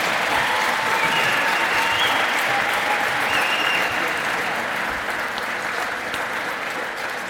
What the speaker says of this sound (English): One more round of applause for these amazing 2023 Hall of Fame class.